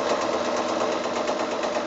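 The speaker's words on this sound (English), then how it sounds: "So now I'm going to go back to the machine and join up that four patch." A sewing machine stitches together a quilt four-patch block, giving a steady, close, rapid mechanical whirring that runs without a break.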